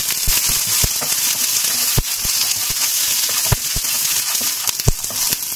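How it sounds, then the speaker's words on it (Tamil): Curry leaves hit hot tempering oil with garlic in a Tamil home kitchen, giving a steady close hiss with sharp crackling pops at irregular moments throughout. "அதில் கொஞ்சமாக கருவேப்பிலை இதையும் சேர்த்துக்கிறேன்"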